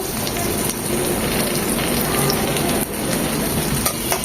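Chopped garlic and ginger sizzle steadily in hot oil for fried rice, a close, continuous crackling hiss with no talk over it.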